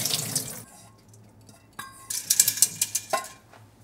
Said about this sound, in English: So I'm gonna drain this water.